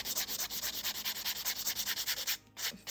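A 100 grit nail file rubs back and forth across a nail in quick, regular rasping strokes, about a dozen passes close up and fairly quiet, ending in a brief pause.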